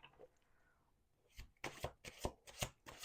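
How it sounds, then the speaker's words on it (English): Cards shuffled in a series of quick riffling bursts, close up, after a brief quiet stretch; no talking. "We're going to do 2 more shuffles"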